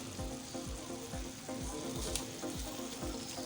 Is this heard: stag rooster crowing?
no